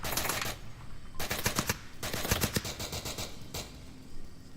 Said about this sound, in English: Shots coming out from Plenus over towards the west side.